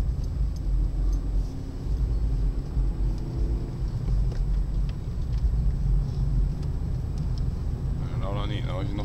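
A BMW 316 coupe heard from inside while driving, with a steady low engine and road rumble close by and a voice talking over it briefly near the end.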